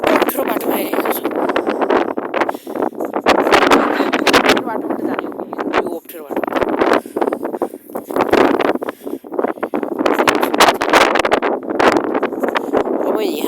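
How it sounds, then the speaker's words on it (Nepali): Strong wind gusts buffet the microphone on a difficult mountain path in Jumla, Nepal, roaring in bursts and nearly drowning out someone talking throughout. "लास्टै हावा लागिरहेको छ"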